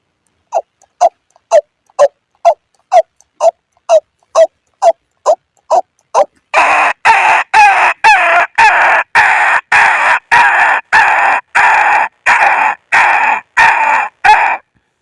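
A man imitates the call of the white-breasted waterhen with his voice: evenly spaced short clucking notes first, then a faster run of louder, harsher repeated calls, close up and with no background.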